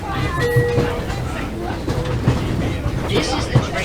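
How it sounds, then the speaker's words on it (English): Long Island Rail Road M9 train riding toward Grand Central Madison, a steady rumble of the carriage with periodic rail clicks and low thuds, heard from inside over background voices. "This is the train to Grand Central."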